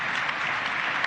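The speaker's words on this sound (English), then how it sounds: "Could you give them a round of applause," An audience at a televised constitutional forum claps for the panelists, a brief, steady patter of applause filling the moment.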